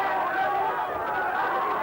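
A crowd streams across the ground after an under-18 country football grand final, making a steady wash of distant cheering, chatter and running feet with no single voice standing out.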